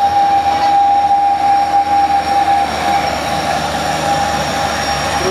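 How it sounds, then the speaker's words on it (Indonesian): A 6x4 HD tank truck rated at 220 PS grinds up a steep hill, a continuous loud engine roar with a sustained whine and rumbling drivetrain, no voices. "Truk tangki 6x4 HD 220 PS."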